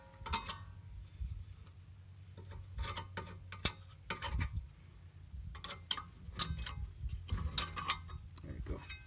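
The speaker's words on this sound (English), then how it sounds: "Just put your wrench in there" Sharp ratchet wrench clicks in short irregular bursts while replacing rear brake pads on an Infiniti G37, close and crisp over a low background hum, with people talking at times.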